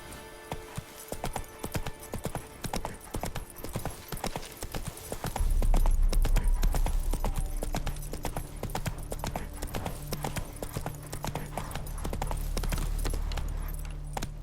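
Hooves of Roach the horse trot in Witcher 3, a rhythmic clip-clop running the whole time, with a deep low rumble joining partway through and faint ambient game sound underneath.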